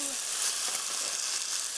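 Green beans and diced canned tomatoes sizzling in a skillet, a continuous hissing crackle, close and even throughout the short stretch.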